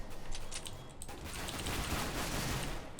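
Revolver shots in Counter-Strike: Global Offensive ring out as a few distinct cracks early on, then give way to a dense, sustained clatter of game gunfire and noise.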